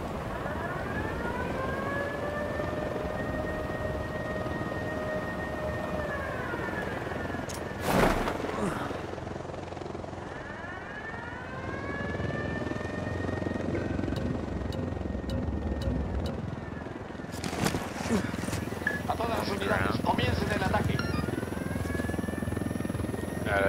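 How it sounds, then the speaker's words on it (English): An enemy gunship helicopter with a mounted machine gun approaches in Ghost Recon Wildlands, its rotor drone steady and growing with pitch sweeps, broken by a couple of sharp bursts, under faint background sound. "Un helicóptero equipado con metralleta viene para acá."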